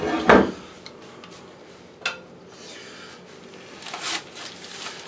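A frying pan is handled on a kitchen stovetop, with a loud metallic clatter at the start, a sharper knock midway and further scraping and rattling near the end over a quiet background.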